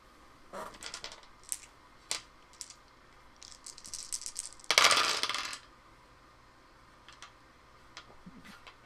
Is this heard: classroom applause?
no